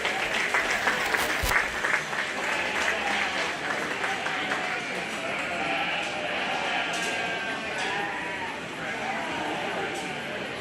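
Steady applause rolls through the show ring at a county fair 4H/FFA sheep show, honoring the exhibitors; a dense, even wash of clapping lasts about ten seconds, with sheep bleating faintly and hooves shuffling in the background.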